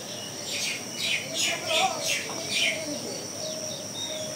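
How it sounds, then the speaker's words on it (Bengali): Pigeons on a roof under cloudy skies, with repeated chirping bird calls rising and fading at a moderate distance over light background noise. "চালের উপর কবুতর"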